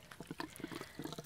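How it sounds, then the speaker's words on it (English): Water running through a hose into an RV fresh water tank on a city water connection, a faint, steady trickling and gurgling with small bubbly splashes. "Just filling up the fresh water tank,"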